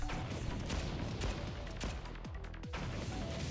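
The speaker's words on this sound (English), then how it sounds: "What was that noise? It sounded like a gunshot." Gunfire in the video game Blue Archive, a dense rumbling mix with several sharp cracks and booms, loud and continuous with no speech.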